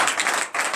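A congregation at a night deliverance church service bursts into applause and acclamation, dense clapping in two swells with a brief dip between.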